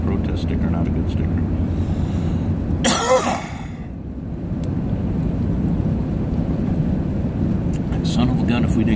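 One sharp, close cough bursts out partway through, set against a low steady rumble of traffic or engine noise, with talk around it.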